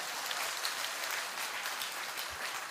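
An audience claps together at a religious discourse gathering, producing a steady, dense wash of applause that holds at an even level with no voices above it.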